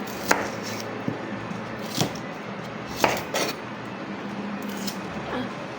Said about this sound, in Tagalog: Random cutting.